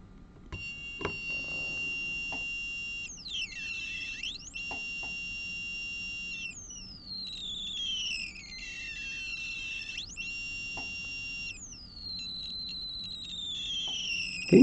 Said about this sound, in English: Like an overlapping of tones, like I'm getting two tones at the same time.